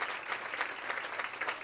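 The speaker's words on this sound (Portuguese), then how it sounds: "A salva de palmas para Jesus também." A congregation applauds at a church thanksgiving service, a brief, even burst of many hands clapping heard from some distance.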